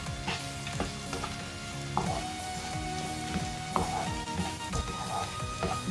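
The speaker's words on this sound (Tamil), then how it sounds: "இப்போ இந்த தக்காளியும் நல்லா வதக்கி எடுத்துக்கணும்." Tomatoes being sautéed in a pan for a shallot and garlic kara kuzhambu, a tamarind curry. A continuous close sizzle and crackle is broken by periodic scraping stirs of a spatula against the pan.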